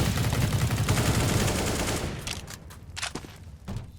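Flashbang and gunfire in a tactical shooter video game with a sniper: a loud, dense burst of bright gunfire fills the first two seconds, then fades into quieter separate shots and sharp impacts, with no voices.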